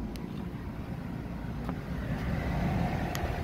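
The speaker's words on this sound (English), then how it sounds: "So it's got a little bit of a growl to it, even though it's a six-cylinder" Dodge Charger SXT with a six-cylinder engine and dual exhaust idles close by with a low, steady rumble and a slight growl, alone without talk.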